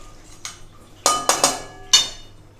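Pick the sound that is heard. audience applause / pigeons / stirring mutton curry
stirring mutton curry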